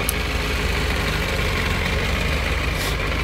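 A Yamaha FZS 600 Fazer motorcycle engine idles steadily and close by, a dense continuous low rumble that holds the same even pitch throughout without any revving.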